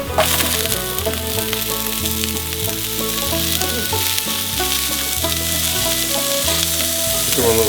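Asparagus hits a hot pan for Kung Pao shrimp and sizzles loudly and continuously, up close, with a steady crackle over faint background music.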